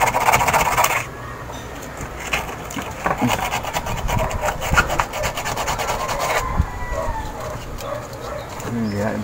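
Sandpaper rubbing steadily against the door switch of a spin dryer under repair, a continuous close scraping that runs alongside talk and a dog barking in the background.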